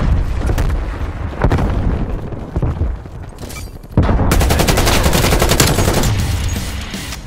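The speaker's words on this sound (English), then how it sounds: "Send him frag grenade." Gunfire and a frag grenade in the Call of Duty Black Ops Cold War video game: rapid automatic bursts and sharp shots, then a dense, sustained volley of rattling fire from about the middle, loud and close.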